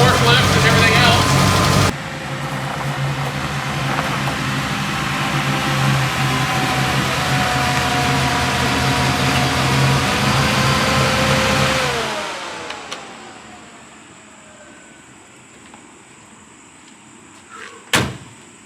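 The engine of a 1955 Oldsmobile runs loud and close for about ten seconds as the car is driven outside, then fades away, leaving quiet with a sharp knock near the end.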